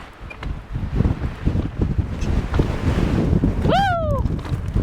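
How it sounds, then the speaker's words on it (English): Steady rushing wind buffets the microphone while mountain biking on a homegrown Utah singletrack trail, a loud continuous roar with gusty swells, and a brief whoop of a voice rises near the end. "Into the wind."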